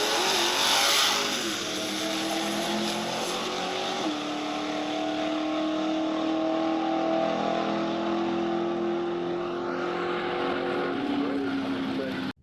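Jaguar E-Type drift car revving hard on a drag run, a loud sustained engine roar with rising and falling pitch steps as it shifts through gears, steady and close for most of the run.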